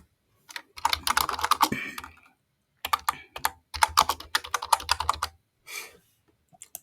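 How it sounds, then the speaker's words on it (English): Computer keyboard typing on a Windows PC, heard as bursts of quick, close key clicks in several runs separated by brief pauses, ending with a short final flurry. "Then I can type in text"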